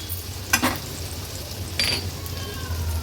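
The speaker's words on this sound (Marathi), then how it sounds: "आता 1 छोटा चमचा आपण आलं लसूण पेस्ट ॲड करणार आहोत." Ginger garlic paste frying in oil in a pan, a low continuous sizzle with two brief bursts of louder spattering and a faint clink of a spoon, close.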